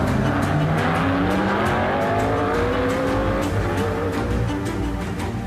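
Racing cars roar continuously with layered engine notes and tire squeal, loud and busy throughout, with repeated sharp bursts that suggest cars sweeping past on the track.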